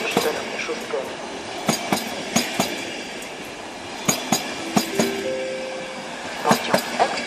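Wheels of an Intercity express train hauled by an EP09 electric locomotive clack rhythmically over rail joints at close range, with sharp knocks and a brief high metallic squeal, as it departs Warszawa Zachodnia station.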